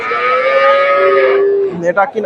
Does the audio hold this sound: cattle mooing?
yes